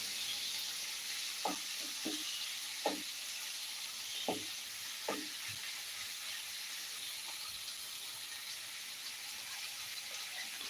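Prawn roast ingredients fry in a pan with a continuous soft hiss and sizzle and a few faint utensil taps against the metal. The sound is quiet and steady, with no voices.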